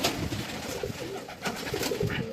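Pigeons coo loudly and flutter nearby as they are let out of their loft one at a time, with steady bird chatter and wingbeats filling the short stretch and no talk.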